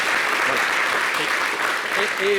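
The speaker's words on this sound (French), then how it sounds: "il faut applaudir pour tous les artistes du monde mondial" An audience on a television talk show claps in a dense, continuous burst, loud and close, with a voice briefly audible near the end.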